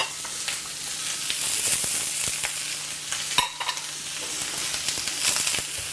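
Ingredients sizzle steadily in hot oil in a wok while fried rice is being made, a continuous crackling hiss broken by scattered sharp pops and stirring scrapes, close and fairly loud, with no talking.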